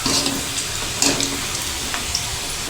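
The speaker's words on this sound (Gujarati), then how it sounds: "એક કડાઈમાં આપણે તેલ ગરમ મૂક્યું તે ગરમ થઈ ગયું છે, તો હવે આપણે તેમાં સિંગ ભજીયાને તળી લઈશું।" Peanut bhajiya frying in a pan of hot oil, giving a steady, close, loud sizzle with a few brief crackles and spatters.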